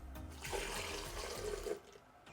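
Milk pours into a blender jar in a short steady stream, splashing softly for about two seconds before tapering off.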